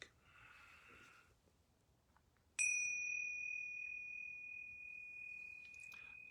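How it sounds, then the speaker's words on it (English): Yoga bells are struck in a quiet home session: a faint earlier chime, then one clear bright strike that rings on with a long, pure sustained tone and slowly fades, with no talking over it. "Now I'm going to ring these yoga bells 3 times."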